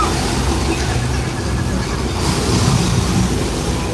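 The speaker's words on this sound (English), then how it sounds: "And that is our flash flood on the backlot in 2002" Flash flood water effect on the Universal Studios Hollywood backlot, a steady broad rushing roar of released water that swells slightly partway through, heard alone with no talking.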